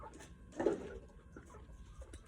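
A chicken gives a short, sharp cluck, then a few softer clucks follow over quiet background noise.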